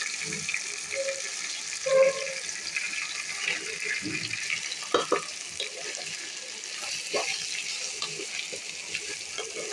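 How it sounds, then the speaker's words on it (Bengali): Rice fried in oil for chicken biryani, stirred in a pot with cinnamon, cardamom, nuts and raisins: a steady soft sizzle with watery hiss, punctuated by light scraping and clinking of a spoon against the pan. "আমার চাউল ভাজাটা হয়ে আসছে প্রায়"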